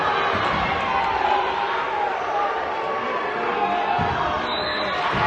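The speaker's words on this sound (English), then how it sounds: "you can hear the South Tama crowd getting fired up" South Tama supporters cheer at a high school volleyball match against Roland-Story, a loud, continuous roar of crowd noise filling the gym, with voices mixed into the din.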